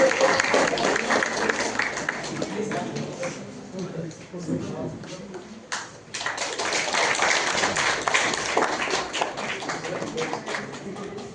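Applause and clapping from an audience welcoming the Jenugudu art troupe at a college untouchability-eradication programme, a dense, steady patter filling the room that dips briefly midway before swelling again.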